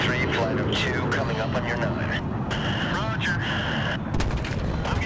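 Loud bursts of gunfire and explosions in the video game Battlefield 3 blend with a constant rumble, with a person talking excitedly in Thai over the din.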